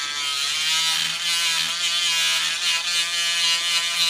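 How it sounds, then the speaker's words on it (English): A Dremel rotary tool grinds an oil pastel inside a cup, giving a steady high-pitched motor whine with a buzzing, grinding edge that runs continuously at moderate loudness, with no voices. "take your Dremel and you take your oil pastel and then you just put it in the cup, turn your Dremel on"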